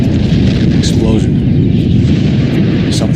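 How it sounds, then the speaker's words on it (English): A big explosion in the video game L.A. Noire rumbles loudly as a sustained, heavy low roar with a couple of brief higher bursts, filling the whole moment at steady volume. "Explosion. Something big."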